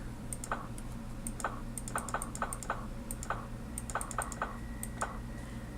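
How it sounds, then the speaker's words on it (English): Quiet, rapid clicking of keys and mouse at a computer while playing the puzzle game Submachine, irregular bursts of sharp taps close by over a low steady hum, with no talking. "I'm sorry if the clicking may be a little bit loud."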